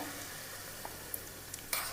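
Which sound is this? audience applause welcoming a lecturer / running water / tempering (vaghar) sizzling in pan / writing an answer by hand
tempering (vaghar) sizzling in pan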